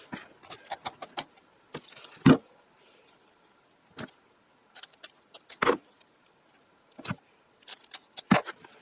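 Scissors snip through a small piece of window screen mesh, cutting it to size for an insect-proof electronics air grill: a series of crisp, close, sharp clicks and crunches in irregular bursts over a quiet background.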